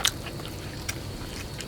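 Quick crisp bites crunch into grilled pork skin turned crackly at a camping cookout, a few short sharp snaps up close against a soft background hum.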